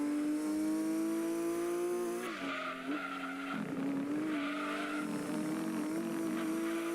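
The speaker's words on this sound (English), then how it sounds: "I'm drifting." A Nissan Silvia drifts in Gran Turismo 2, its engine droning with a high, shifting tire squeal that wavers and swells over several seconds, loud and continuous.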